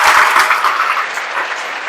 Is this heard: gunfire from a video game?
no